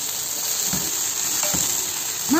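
Eggplant sizzling in hot oil in a frying pan, a steady close hiss with a few soft stirring clinks and a brief scrape near the end, no talking.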